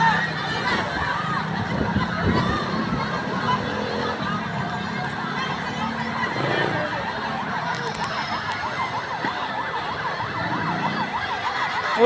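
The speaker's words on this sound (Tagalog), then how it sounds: "May yung bumbero." Fire truck siren wailing at a large blaze in Tramo, Pasay, a steady emergency siren sustained throughout amid background commotion, with faint voices.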